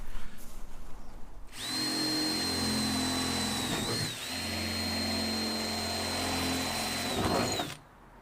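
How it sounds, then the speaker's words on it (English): A power drill whines loudly and steadily for several seconds, its pitch dipping briefly twice as it bites into the metal roof of an Iveco Daily camper van, then stops. "I'm going to drill the holes and get this light bar fitted."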